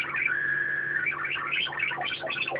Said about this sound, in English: then you hear the sort of sequencer effect appear in it